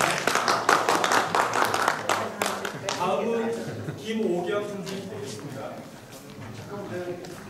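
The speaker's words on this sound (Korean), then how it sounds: "축하드립니다. 박수 부탁드리겠습니다." Audience applause at an urban-governance academy closing ceremony, where attendees receive certificates one by one; a burst of dense clapping opens the passage, then fades under the host's voice speaking over the room.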